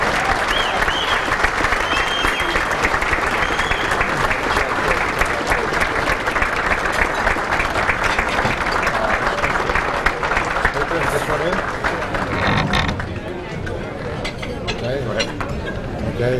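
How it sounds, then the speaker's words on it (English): Banquet crowd at a 2000 Pennsylvania Sports Hall of Fame dinner applauding an honoree, with dense sustained clapping throughout that thins slightly toward the end, with voices faintly mixed in. "Please give a well-deserved round of applause to our first honoree of the evening"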